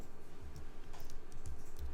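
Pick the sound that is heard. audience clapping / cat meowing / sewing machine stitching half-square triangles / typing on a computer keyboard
typing on a computer keyboard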